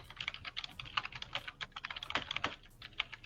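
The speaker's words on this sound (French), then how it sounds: "Ah mais ça c'est ton clavier, il fait trop de bruit" Someone types on a loud, clacky computer keyboard in quick, uneven bursts of sharp clicks, close and alone with no talking.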